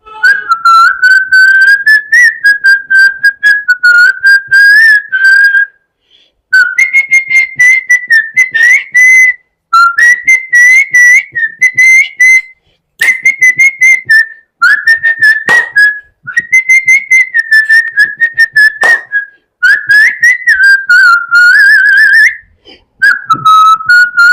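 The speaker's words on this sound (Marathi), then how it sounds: "मी शिट्टीतून गाणं म्हणून दाखवणार, ते गाणं कुठलं आहे हे आम्हाला आवर्जून सांगा." A person whistles a song melody, loud and close, in long phrases separated by brief pauses for breath. No other voices.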